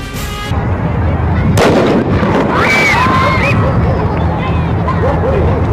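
Police carry out a controlled detonation of two bombs, producing loud, booming blasts with a sharp burst and rumbling echo, followed by wailing siren-like tones in a noisy outdoor scene.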